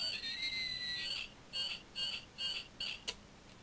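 A small moose keychain toy gives off a string of short, high-pitched squeaky chirps, about five quick bursts in a row after a brief whistle-like tone, faint and close with no talking.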